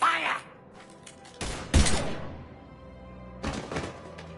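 Gunfire erupts in a video game: a couple of sharp, loud volleys crack out a few seconds apart over a quieter background, with voices speaking briefly around the shots.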